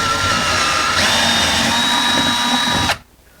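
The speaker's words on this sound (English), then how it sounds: "We're going to drill the bigger hole to accommodate the drywall anchor that's going to go in there." A power drill bores a half-inch hole in a wall for a drywall anchor during an over-the-range microwave install, a loud steady whine that rises in pitch midway and then cuts off abruptly.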